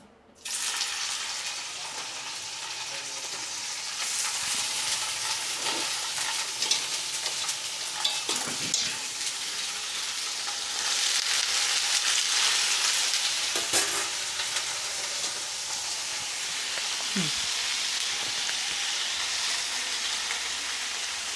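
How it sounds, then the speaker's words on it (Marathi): Paneer sizzles steadily in hot oil in a pan, a loud, constant hiss broken by occasional soft scrapes and stirring sounds. "पॅन चांगलं गरम झालं आहे, त्यामुळे थोडंसं तेल घालते आणि पूर्ण पॅनला तेल लावून घेऊया आणि ह्याच्यामध्ये तर मी पनीर टाकणार आहे"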